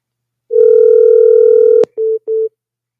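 Telephone dialing as a call is placed: a long steady dial tone ends in a sharp click, followed by two shorter ringback tones, clear and close with no voices.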